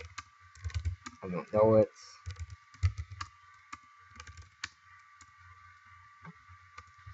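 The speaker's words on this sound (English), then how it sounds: "See, I type stuff in." Bursts of clicky typing on a computer keyboard running a Windows XP machine, close and light, with a brief spoken remark partway through and a faint steady electronic hum underneath.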